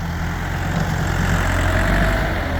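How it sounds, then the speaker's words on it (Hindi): Tractor engine idling while hitched to a trolley loaded with soil, a steady low rumbling drone with constant loudness, close and alone without talk. "ट्रैक्टर को काफ़ी ज़ोर लगाना पड़ता है।"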